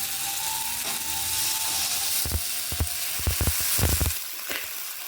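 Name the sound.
broth poured into the pan while cooking dhokar dalna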